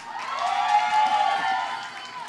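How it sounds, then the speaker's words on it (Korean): An audience at a cover dance competition finale claps and cheers in a swelling wash of applause with high shrieks and whoops, peaking mid-clip and easing off toward the end. "여러분들 다시 한번 뜨거운 박수 부탁드릴게요."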